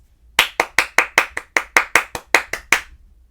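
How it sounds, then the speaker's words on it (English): Hands clapping a rhythm: about a dozen sharp, close claps in an uneven pattern of quicker and slower beats, loud and alone in a quiet room. "Clap and say it with me."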